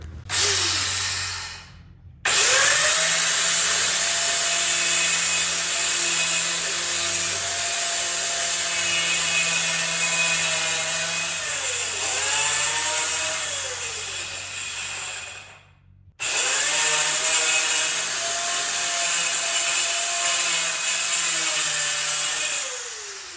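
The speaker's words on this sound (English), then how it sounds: "I'm just going to cut about 1/8 of an inch off here with my saw and then restaple the upholstery" A power saw trims the wooden seat board of a vintage go-kart, whining loudly and continuously with pitch dips as it bites, cut off briefly twice, close up and without talk.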